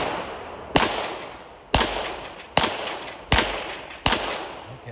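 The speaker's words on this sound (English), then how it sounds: "She's going to the first plate rack." Five sharp gunshots ring out at an even pace, each followed by a metallic ring as rounds strike steel plate rack targets at a shooting range, loud and without talk.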